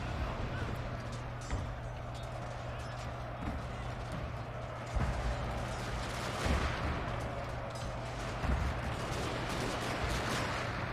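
Rifle volleys and scattered musket fire from riflemen in a Shogun 2 Fall of the Samurai battle, distant crackling bursts over a constant low drone with occasional louder volleys.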